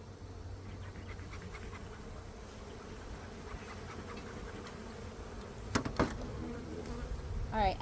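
Honeybees buzzing steadily during a beehive inspection while frames are checked for queen cups and swarm cells, a dense close hum with a few louder bee passes and brief handling knocks toward the end.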